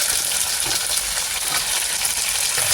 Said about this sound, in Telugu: బీరకాయ కూడా మనకు బాగా వేగాలి.